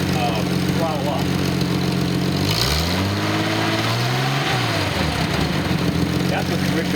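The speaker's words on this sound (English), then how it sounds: "Watch the needle as I throttle up." A Nissan 280ZX L28 engine idles on a test stand, then the throttle opens and it revs up in a rising sweep before easing back to idle, loud and close throughout.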